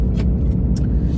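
A truck drives along with a loud, close engine rumble filling the cab, steady low droning broken by a few brief higher noises.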